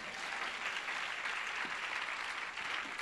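A church congregation applauds the Lord, dense, steady clapping from many hands that fills the whole moment without a break, loud and close.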